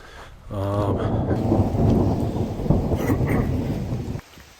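Heavy rain pours steadily in a mountain forest at San Jose del Pacifico, Oaxaca, with deep rolling thunder rumbling through it, loud and close, before cutting off abruptly near the end.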